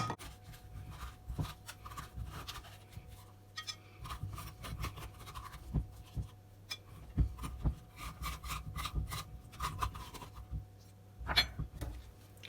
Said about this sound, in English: scrape out all the seeds